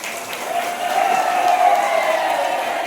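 An audience at a college function in Mysuru breaks into sustained applause, a dense wash of many hands clapping with a little crowd murmur, loud and steady throughout.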